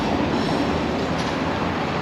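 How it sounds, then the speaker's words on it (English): Close by on a Lviv street, a passing tram gives off a loud, steady rumble of rattling wheels with faint squeals. "There's a tram here."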